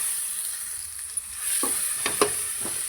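Food sizzles in hot oil with a constant, bright hiss, and in the second half brief scrapes and knocks of a utensil stirring the pan join in.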